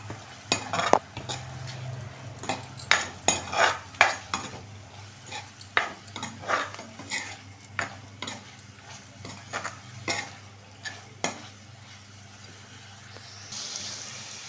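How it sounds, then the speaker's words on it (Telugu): Mushrooms cooking in a pan with chili powder and coriander powder, heard as a series of sharp scraping and clinking stirs from a spoon against the pan over a soft, steady sizzle, up close with no voices. "యాడ్ చేసి మొత్తం ఫ్రై చేసుకోవాలి"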